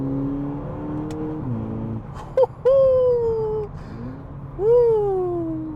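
A 2024 Volkswagen Polo GTI with its 2.0-litre 147 kW engine drops through downshifts, the loud engine note dipping and then rising in sharp throttle blips and rev surges. Clicks and rising whines come through as the gears change, with no talk.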